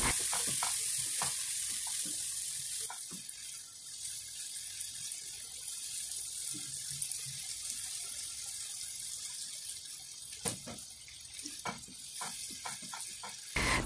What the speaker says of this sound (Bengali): তো মশলাটাকে ভালোভাবে আমি কষিয়ে নিচ্ছি তো বারবার মশলাটাকে একটু একটু পানি দিয়ে কষিয়ে নেবেন